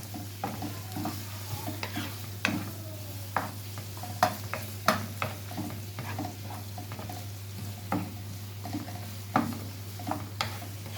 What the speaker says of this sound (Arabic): احنا بس نديله تشويحة، كله ياخد من بعضه كده.